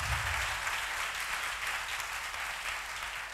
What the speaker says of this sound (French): I deserve a clap.